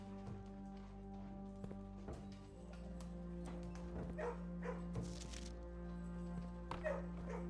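Dogs in the video game Blue Prince bark and yip in brief, fairly faint bursts over continuous background music, with a few sharper clustered barks near the end.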